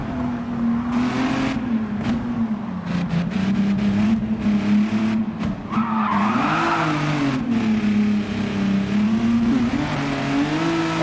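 A race car in Gran Turismo 7 revs loudly and steadily, its engine pitch rising and falling through gear changes, with a brief tire squeal partway through and no talking.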